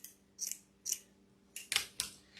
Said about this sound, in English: So I'm just going to cut it right about here.